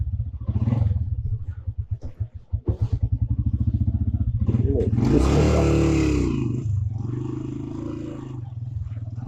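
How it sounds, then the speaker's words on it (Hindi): A motorcycle is kicked over with a few sputtering strokes, then catches and roars close up before settling into a steady idle, heard along a bazaar road on a mountain route toward Sharda. "किक मारता हूँ तो तभी पता चल जाता है कि प्रेशर हो जाए बाइक।"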